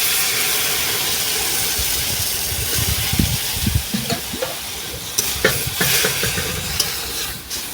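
Cabbage frying with mango ginger in a pan, a broad steady sizzle and hiss with scattered stirring clinks and scrapes building toward the end, no talking.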